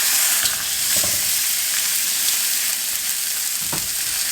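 Buffalo chicken pieces sizzle steadily in a hot pan after being flipped, a loud continuous frying hiss with a few soft scraping clicks near the start and end.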